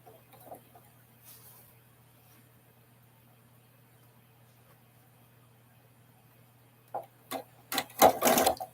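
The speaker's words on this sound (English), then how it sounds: "For some reason, the sewing machine wants to act up with the bobbin today." A sewing machine sits mostly idle with a low steady hum, then runs in short stitching bursts near the end, the last burst longest and loudest, a bobbin giving trouble, no one talking.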